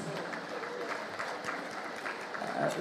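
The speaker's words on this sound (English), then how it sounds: "A round of applause, please" Quiet round of applause from an audience at an evening gathering, soft scattered clapping heard at a distance, steady throughout with a slight swell near the end.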